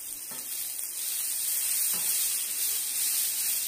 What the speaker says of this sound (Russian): На сковороде готовим гуанчали до прозрачности.